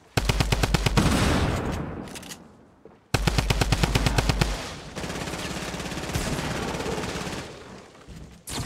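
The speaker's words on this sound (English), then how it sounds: "I'm shooting you down" Rapid automatic gunfire in the video game Fortnite, loud and close, coming in two long bursts of evenly spaced shots that give way to sustained rattling fire, with a brief drop in level between the bursts.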